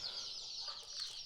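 Chickens cluck steadily on a poultry farm, a dense, continuous chatter of many birds at close range with no voices over it.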